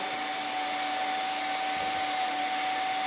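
A plastic welding extruder gun's hot-air blower runs steadily, loud and close, with a constant broadband whoosh and a fixed high motor whine, like a hair dryer, with no voices.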